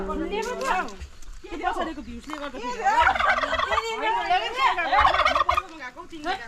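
A turkey on a family farm gobbles repeatedly in rapid, warbling bursts, nearby and loud, with a person's voice talking over it.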